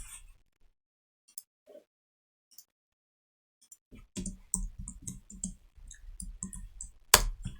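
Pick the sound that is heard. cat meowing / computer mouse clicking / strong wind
computer mouse clicking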